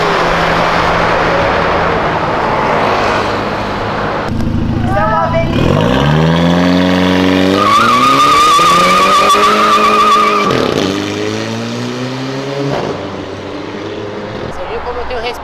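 A drag-racing Ford Mustang with over 1000 horsepower roars up close, its engine climbing sharply through rising revs, holding a loud high pitch and then dropping off, with people's voices heard at times over a rumbling background.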